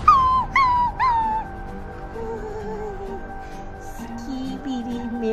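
A dog whimpers in three quick, high, falling yelps, then lets out softer whining and moaning tones that trail on faintly for several seconds.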